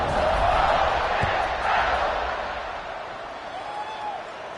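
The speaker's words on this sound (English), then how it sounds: "They're set to kick it off, and this crowd now ready to get behind them." Stadium crowd noise rises at kickoff in a college football video game, Ole Miss versus Texas Tech, a steady loud roar of cheering that swells early and then eases slightly, with no talk over it.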